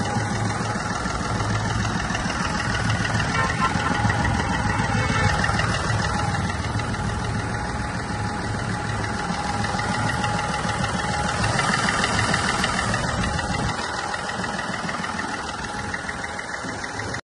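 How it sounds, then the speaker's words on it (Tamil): Chevrolet Beat diesel hatchback engine idling, a steady mid-low diesel rumble with a faint knocking clatter, close and continuous throughout with no talk. "இன்ஜினோட ஹெட்ரூமையும் அண்ட் இன்ஜினோட நாய்ஸையும் லைவாக கேளுங்க"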